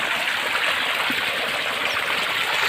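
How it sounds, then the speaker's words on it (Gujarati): Jivamrut liquid fertilizer pours into a 1000-litre tank in a steady, close, loud rush of flowing liquid with a continuous gurgling wash and no pauses or voices. "આ પાણી આવે,"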